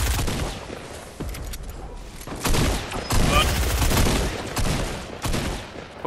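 Fortnite gunfire crackles in rapid bursts during a squad fight, repeated volleys of shots near and loud, with players talking over the shooting.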